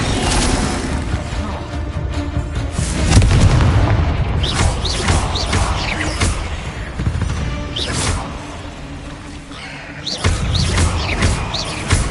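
Confringo blasting spells from Hogwarts Legacy go off as a series of loud booming explosions with whooshes, several bursts over a dense rumbling battle din, mostly without speech.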